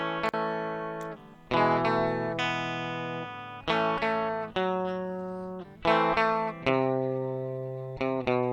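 An electric guitar recorded dry through a direct input plays a guitar solo as a run of clean, bright picked notes that ring out and decay between attacks, with no amp tone or room sound.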